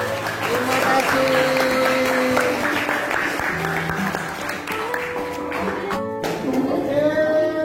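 Classroom applause after a student group presentation, a steady wash of clapping hands from many students that carries on for several seconds, with background chatter and a voice speaking over it.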